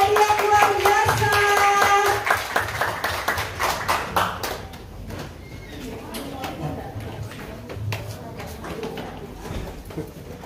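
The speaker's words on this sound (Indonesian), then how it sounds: "Beri tepuk tangan, beri aplaus untuk adik-adik yang luar biasa" An audience claps for Sunday school children at a church service, with rhythmic clapping that starts loud and slowly tapers off, mixed with music and voices talking.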